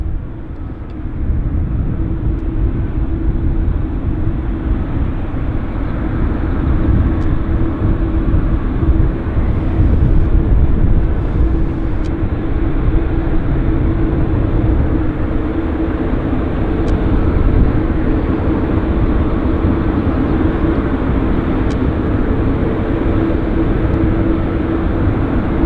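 A Korean Air airliner arriving at Vancouver airport gives a steady, distant jet roar and rumble that holds evenly throughout with no talk.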